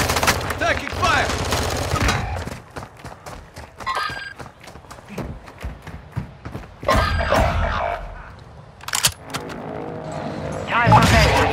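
Rapid gunfire bursts and single shots in Call of Duty Warzone 2, loud and close, with footsteps and in-game voice callouts between volleys.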